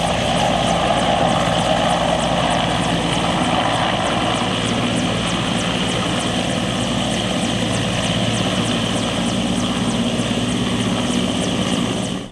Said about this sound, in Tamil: அதில் ராணுவ ஹெலிகாப்டர்கள் தரையிறக்கம் செய்து ஒத்திகை நடைபெற்றது